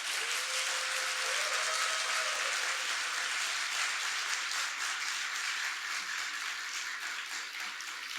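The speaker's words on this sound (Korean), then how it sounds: "큰 박수로" Sustained audience applause greets a pastor at a church faith retreat, a steady dense wash of clapping lasting the whole stretch, fairly close and even in level, with no talking over it.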